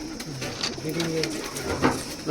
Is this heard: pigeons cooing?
yes